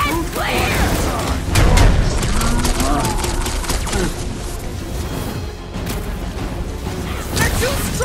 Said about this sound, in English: Draw them apart before shooting, Peter!